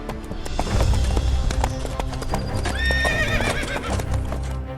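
A horse's hooves clip-clop steadily as it slows toward a halt, with a whinny rising partway through, loud and close against a busy background.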